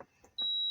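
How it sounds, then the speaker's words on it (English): A seat belt warning indicator in a Mazda 626 starts a continuous high-pitched electronic beep after a few soft clicks, loud and close. "if I remove it and it starts beeping, the beep comes from here"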